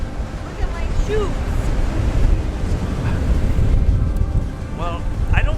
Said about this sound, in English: It's just way too windy.